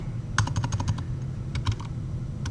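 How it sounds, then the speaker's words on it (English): Typing on a computer keyboard, a quick run of crisp key clicks, then a pause and a shorter second burst, close and clear over a faint steady hum. "So I'm gonna type in"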